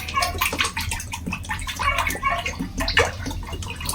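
Coconut oil pours into an uruli vessel, heard as a soft continuous liquid splash and sloshing under faint background voices.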